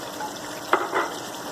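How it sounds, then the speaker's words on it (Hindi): Brinjals shallow frying in oil in a pan on the stove, a continuous close sizzle with a brief sharp clink and a short swell of crackling midway, no voices. "दूसरे चूल्हे पे आप देख सकते हैं हमारे बैंगन जो है वो शैलो फ्राई हो रहे हैं"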